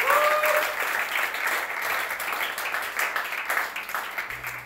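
A church congregation applauds in praise during a sermon, with sustained, fairly loud clapping from a crowd throughout.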